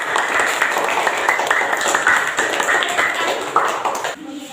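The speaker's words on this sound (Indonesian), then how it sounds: "Kita tepuk tangan dulu, tepuk tangan dulu kelompok." Students in a classroom clap for a group that has finished, a close, busy patter of hands that stops abruptly near the end, with voices mixed in.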